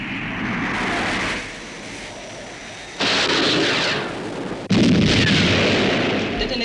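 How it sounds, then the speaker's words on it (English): Missiles fire in the UFO television series with a roaring rocket whoosh that starts, fades, then bursts up in two loud surges of blasting thrust and explosive rumble, close and dominant, without voices. "Commencing missile sequence. Firing,"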